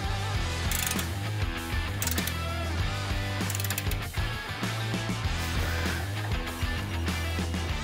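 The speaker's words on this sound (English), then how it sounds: "I'm gonna go ahead and torque our lower strut bolts now" A torque wrench ratchets on the lower strut bolts of a Ford Bronco during a Superlift suspension install, steady close mechanical clicking and whirring throughout, loud and continuous, with no talking.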